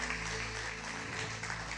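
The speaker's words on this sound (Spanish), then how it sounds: "Vamos a darle un aplauso al Señor" Congregation applause in a Spanish-language church service, faint steady clapping over a low sustained hum or organ-like tone.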